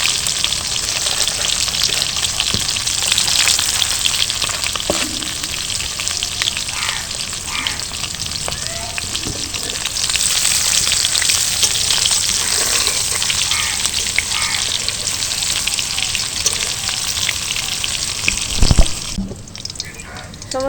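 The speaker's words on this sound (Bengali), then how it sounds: "সমস্ত আলুগুলোই ভাজা হয়ে গেছে।" Potatoes frying in oil in a kadai while an aloo dum is cooked, a steady dense sizzle and crackle running throughout, close by, with brief stirring knocks and a faint voice in places.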